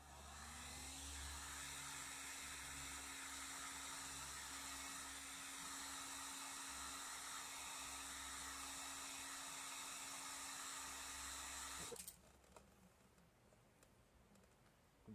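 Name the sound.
heat gun heating VW Atlas badge to remove it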